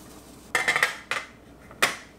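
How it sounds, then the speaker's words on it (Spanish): A metal pressure cooker lid set onto its pot without sealing, heard as a few sharp metallic clinks and rattles in quick clusters, then a single clear clank, in a quiet kitchen. "Lo voy a tapar, pero ya no le voy a dejar la presión, sino que lo voy a tapar sin presión, así."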